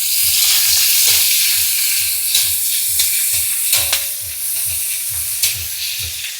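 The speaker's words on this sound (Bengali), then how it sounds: "এবার পেঁয়াজ দিয়ে দিয়েছি।" Sliced onions frying and sizzling in a hot pan for a jackfruit and shrimp curry, a steady loud crackle with soft stirring scrapes recurring in a regular rhythm, close by and without speech.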